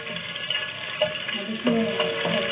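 A cinnamon stick and whole spices fry in a pan for kasuri methi malai chicken, with a steady sizzle and stirring scrapes that grow louder near the end.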